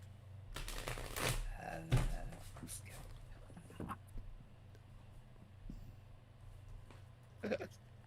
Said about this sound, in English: I can actually grab the cards and shuffle